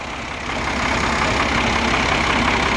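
A heavy diesel tractor engine runs loudly and close, its low rumble constant and unbroken.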